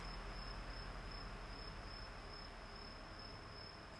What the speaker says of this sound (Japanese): なんか虫鳴いてますね、外で